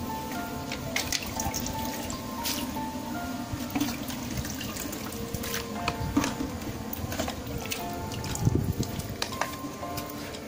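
Water running and splashing as sphagnum moss is rinsed in a basin, a continuous soft trickle with drips and small sloshes, fairly quiet and close, no voices.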